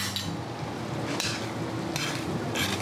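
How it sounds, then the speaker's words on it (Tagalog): Spaghetti sauce made with ketchup bubbles in a pot as a spoon stirs it, giving a steady simmering hiss broken by a few brief scraping clinks against the pot, with no talking. "Kumukulo na siya, luto na siya."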